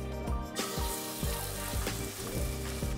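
Duck breast (magret) laid into a preheated pan sets off a sudden, loud sizzle that keeps hissing strongly, while faint rhythmic music plays underneath.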